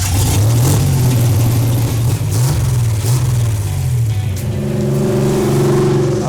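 A custom 1974 Chevy LUV pickup, really an Isuzu, revving loud and close, its engine note rising and falling in repeated pulls before settling into a rougher lower idle.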